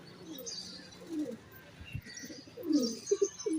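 Domestic pigeons cooing in a bird keeper's loft, several soft throaty coos with the last ones rising louder and close, alongside faint chirps and low background murmur.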